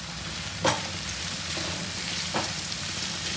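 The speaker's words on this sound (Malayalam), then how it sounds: "കുറച്ചും കൂടെ കറിവേപ്പില ചേർത്ത് കൊടുക്കുന്നു എന്നിട്ട് ഇതൊന്ന് അരക്കിയെടുക്കാം" Onions and curry leaves sauté in a pan with a little salt, giving a steady moderate sizzle broken by a few sharp scraping stirs, with no talking.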